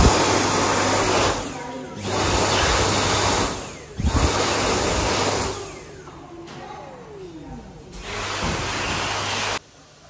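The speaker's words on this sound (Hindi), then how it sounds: "यहाँ पे आप देख सकते हो ये हैंड ड्रायर है।" Hand dryer in an airport restroom blowing a loud, steady roaring rush of air that cuts off and restarts several times, close and alone with no talk.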